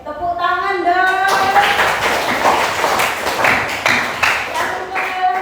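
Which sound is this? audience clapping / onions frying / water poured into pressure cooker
audience clapping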